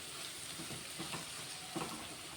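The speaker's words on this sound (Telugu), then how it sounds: "ఉల్లిగడ్డలు, రొయ్యలు, మెంతికూర అన్నీ చక్కగా ఫ్రై అయిపోయినాయి" Onions, dried prawns and fenugreek leaves frying in a pan, a faint, steady sizzle with a few soft stirring scrapes.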